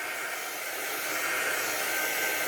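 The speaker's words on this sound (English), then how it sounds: "I'm using my heat gun," Heat gun blowing to dry alcohol ink on UV resin, a steady loud hiss of rushing air with no breaks and no voices.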